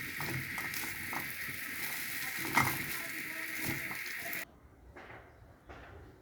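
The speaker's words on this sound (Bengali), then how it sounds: "আবার নাড়াচাড়া করছি নুডলসের মশলা দিয়ে।" Noodles are stirred with noodle spice mix in a frying pan, giving soft scraping and a light sizzle for a few seconds before the sound drops to a few quiet clinks.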